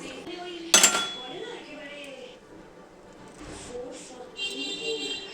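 A lid clanks down onto a metal cooking pot on a home gas stove, one bright metallic clink followed by quieter kitchen rattles and handling noise.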